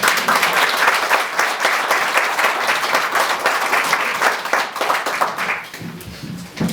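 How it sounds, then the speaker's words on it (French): An audience at a tribute event applauds steadily and loudly for several seconds, a dense wash of clapping that thins slightly toward the end. "On peut l'applaudir, ça m'encourage."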